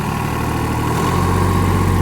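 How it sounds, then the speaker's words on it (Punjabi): Farmtrac 45 tractor engine running steadily with a rotavator attached, a loud, even, low-pitched drone with a slight rise in load partway through. "ਫਾਰਮ ਟਰੈਕ 45 ਨਾਲ ਇਸੇ ਰੂਟਾਵੇਟਰ ਨੂੰ ਪਾਵਾਂਗੇ ਸੇਮ ਕਰਾਰੀ ਤੇ ਚਲਾਵਾਂਗੇ"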